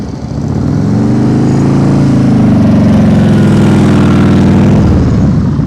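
A motorcycle engine runs steady and close during slow-speed riding practice, a loud, even drone with a slight rise in revs midway before easing off.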